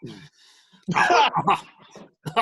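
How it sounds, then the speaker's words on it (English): A person clears their throat with a few rough, gravelly bursts, close and fairly loud, separated by short pauses. "Let me clear my throat."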